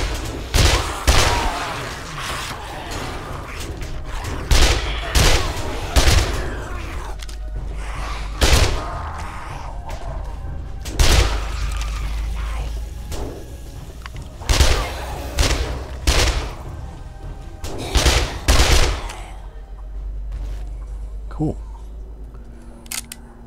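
Loud sporadic gunshots ring out in the zombie survival game 7 Days To Die, single sharp cracks and short clusters spaced irregularly, with someone talking between them.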